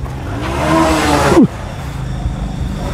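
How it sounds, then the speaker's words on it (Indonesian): A racing motorcycle passes close by on a road beside an old cemetery in Magetan at night. Its engine swells to a loud whine and then drops sharply in pitch as it goes past, leaving quieter background hum. "Ada suara Motor sah"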